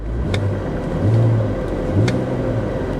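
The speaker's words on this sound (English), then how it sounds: "Give her a little rev." A 1962 Mercedes 190 engine idling with a low, steady rumble and a couple of mild swells as it is revved, close and continuous with no talk.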